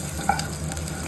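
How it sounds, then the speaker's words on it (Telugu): Onions sizzle lightly in a pan with a pinch of turmeric, a steady close frying hiss with a faint stir or tap near the start, no talk. "ఆనియన్స్ అవన్నీ కొద్దిగా వేగాలండి. మరి నల్లగా అవ్వకూడదు, కొద్దిగా లైట్గా వేగితే చాలు."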